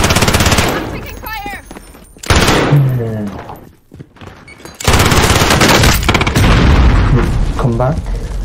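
Incoming gunfire in Call of Duty Plunder, loud dense bursts of shots and booms filling most of the stretch, with a brief lull in the middle, mixed under a voice speaking.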